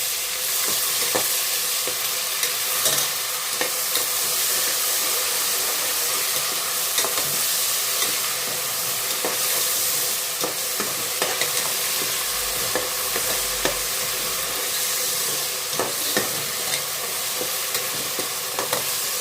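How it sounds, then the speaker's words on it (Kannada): Ginger garlic paste fries in hot oil in a pan while making red chilli chicken biryani. A loud, continuous hissing sizzle runs throughout, with frequent scraping taps from stirring and no talk. "ಅದನ್ನು ಸ್ವಲ್ಪ ಹಸಿ ವಾಸನೆ ಹೋಗೋ ತನಕ ಚೆನ್ನಾಗಿ ಫ್ರೈ ಮಾಡ್ಕೊಳ್ಳೋಣ ಅದನ್ನು, ಶುಂಠಿ ಬೆಳ್ಳುಳ್ಳಿ ಪೇಸ್ಟ್"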